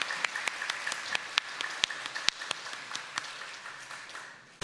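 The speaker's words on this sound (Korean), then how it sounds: "하나님 경배 박수 올려드리겠습니다" A church congregation claps during a Sunday worship service, a soft, even patter of many hands with a few sharper, nearer claps standing out, ending abruptly.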